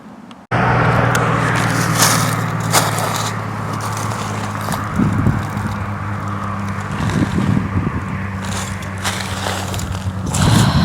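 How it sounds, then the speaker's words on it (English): A car drives slowly through snowy, icy streets of Centralia, a steady low engine hum and tire rumble running continuously with occasional crunching scrapes over the surface. "I'm gonna go drive around a bit."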